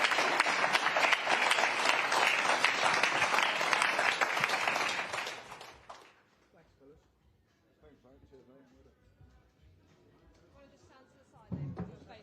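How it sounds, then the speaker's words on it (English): Audience applause at a boxing press conference for Dave Allen and Filip Hrgović: a loud, dense burst of clapping lasting about six seconds, then cutting off into quiet room noise with faint chatter and a brief thump near the end. "Can we get a round of applause for Dave Allen, Filip Hrgović,"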